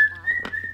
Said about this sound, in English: Were you trying to whistle?